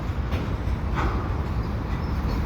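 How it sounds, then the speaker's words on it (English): A CN freight train rolls past a commuter station at Lachine, a heavy, continuous low rumble and rattle of rail cars close by, steady throughout without any speech. "And beside me there is the CN train"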